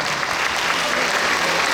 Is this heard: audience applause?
yes